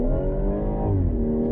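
A 2019 BMW M240i coupe with 340 horsepower accelerates hard, its engine holding a loud, steady, rising drone heard from inside the car, with a brief shift in pitch partway through.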